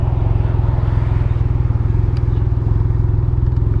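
Can-Am Ryker three-wheeled motorcycle ridden on local roads, its engine a steady loud rumble with a fast, even pulsing throb running close and continuous throughout, with no talk over it.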